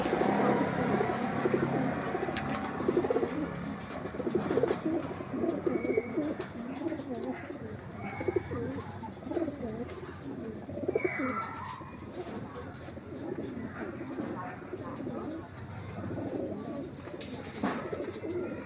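Racing pigeons coo steadily in a loft in Paniqui, Tarlac, a continuous soft layered murmur of many birds with occasional chirps and faint distant voices, quiet and close.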